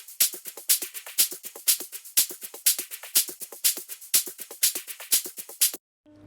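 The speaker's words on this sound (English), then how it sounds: "Then I added some drum loops, hi-hats and shakers and such, and they all sound like this together." Afro House drum loops layered with hi-hats and shakers, a dense, bright, rapidly repeating groove of crisp ticks and swishes over light low thumps, steady and busy for about six seconds before cutting off.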